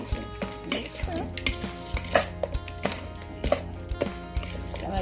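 Chicken feet are mixed with mild curry in a pot, with repeated spoon knocks and clanks against the metal over a low bubbling sizzle, close and rhythmic.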